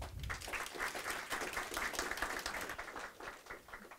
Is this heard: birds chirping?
no